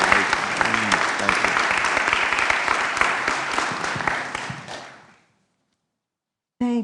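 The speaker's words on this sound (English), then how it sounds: "if we could have a warm welcome and applause for Mary Lazarus" Applause from an audience at the 2015 Columbus Hall of Fame induction ceremony rolls on for about five seconds as a dense, steady clapping, then fades out. A brief burst of sound follows after a short silence.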